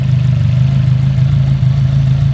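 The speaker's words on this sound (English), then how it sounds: "There's no exhaust on it, there's just a cat and a downpipe. So that's why it's a little bit noisy" A Fiat Punto GT Turbo running with only a cat and downpipe, no exhaust, idles loud and close with a steady, throbbing low drone and a slight uneven pulse.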